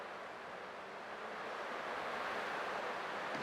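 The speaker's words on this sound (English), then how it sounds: "I can still clearly hear the sound of the waves." Ocean waves in the video game Honkai Star Rail, a steady broadband wash of surf that rises slightly toward the end, heard alone without speech.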